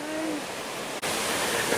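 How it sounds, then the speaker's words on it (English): Steady broadband rush of a waterfall beneath a bridge in Monteverde, Costa Rica, loud and close, continuous with no voices, with one very brief dip in the middle. "look at this gorgeous waterfall, y'all"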